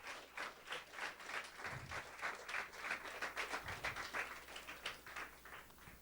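Steady applause from a church congregation during a Palm Sunday service, many hands clapping continuously at moderate distance, sustained throughout without pause.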